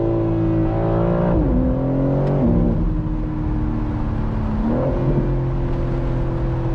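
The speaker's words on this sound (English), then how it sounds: "The engine is so powerful." Loud engine of a 2025 BMW M4 Competition Convertible pulling under acceleration from inside the cabin, the note dipping at quick upshifts and then climbing again in a steady, powerful drone.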